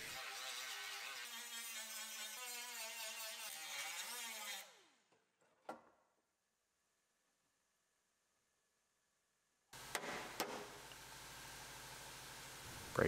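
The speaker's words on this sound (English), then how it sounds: "And where I couldn't get the drill, back to the die grinder." Die grinder cutting through spot welds on the C-pillar of a GMC Yukon during quarter panel replacement, a high whining grind that winds down, falls silent for several seconds, then starts again loudly.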